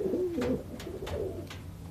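Old Dutch Capuchine pigeons cooing in soft, low, repeated throaty calls, close by, with faint rustling between coos and no talking.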